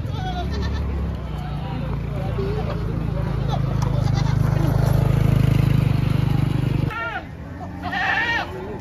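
Goats bleat repeatedly amid a loud, busy crowd murmur and steady low rumble at a livestock market selling sacrificial animals for Eid al-Adha, with several overlapping calls from nearby goats of various sizes, male and female.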